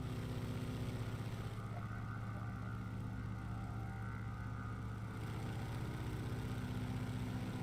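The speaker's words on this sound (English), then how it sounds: "I can hear the engine like it's right on top of me" A nearby aircraft engine in a multiplayer flight video game set over the Pacific Northwest drones steadily and fairly loud throughout, a low, even hum with no voices over it.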